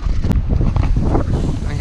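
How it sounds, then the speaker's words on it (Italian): Wind gusts across the sand dunes at Maspalomas, a loud continuous rumbling roar buffeting the microphone, with a voice speaking underneath. "poi anche oggi un po' di vento tira, infatti ho la sabbia in faccia"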